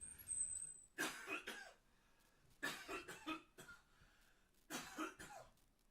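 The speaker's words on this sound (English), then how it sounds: "wait till I'm done coughing" Someone coughs in three separate bursts, each a quick cluster of harsh, close coughs with short quiet gaps between.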